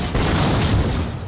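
A whole building explodes in a superhero film scene, a loud, dense roaring blast that fills the clip with sustained rumbling noise.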